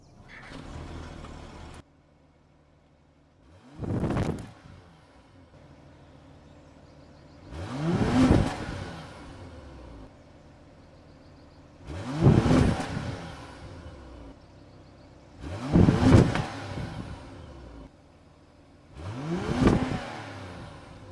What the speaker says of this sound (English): let's take a listen to all of the exhaust notes here on this BMW 740i